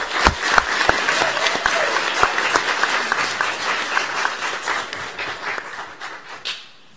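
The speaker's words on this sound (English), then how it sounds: "How about another round of applause?" A round of applause at a school district board meeting, dense and steady clapping from the audience that holds for several seconds, then fades away near the end.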